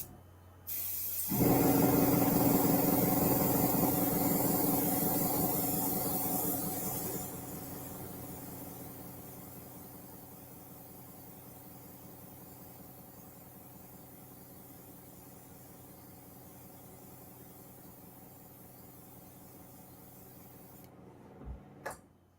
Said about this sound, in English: You rarely see airbrushing with brown, right?